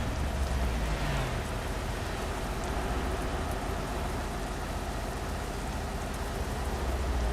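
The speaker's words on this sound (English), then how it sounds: "I'm surprised it's still raining." Steady, dense rain pattering continuously at close range in the driving game Euro Truck Simulator 2, a constant wash of drops with no talking over it.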